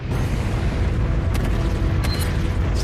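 An exploding island in the Resident Evil 4 VR game gives a dense, loud rumble that fills the whole stretch, with a couple of sharper cracks standing out midway.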